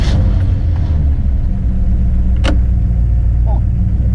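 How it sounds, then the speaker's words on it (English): An Oldsmobile 442 with a 400 cubic inch V8 and three two-barrel carburetors running, a loud, close, continuous low rumble with a brief sharp click midway and voices talking over it. "Here's the 400 cubic inch V8 with 3 two-barrel carburetors."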